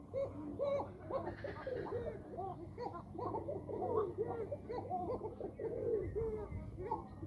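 Many pigeons on a pigeon farm coo in a dense, overlapping chorus. The soft, rolling calls repeat continuously and stay fairly close at a steady moderate level.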